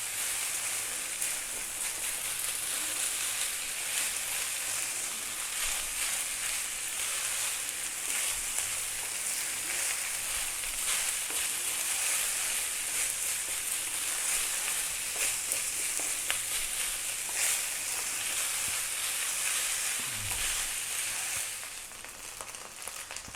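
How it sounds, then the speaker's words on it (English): Rice for pork fried rice sizzles and crackles steadily in a hot pan, a constant bright frying hiss with occasional soft knocks, no talking. "That's the rice frying away there."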